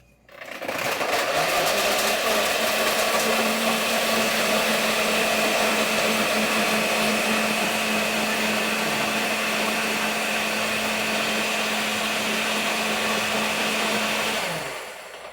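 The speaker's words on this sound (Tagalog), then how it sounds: "i-blender na natin" A loud blender crushes ice for a mango milkshake, whirring steadily for about fourteen seconds with a grinding, rattling texture, starting and stopping abruptly, no talking.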